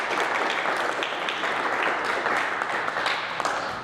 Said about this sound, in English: just a really quick round of applause for the board and RTD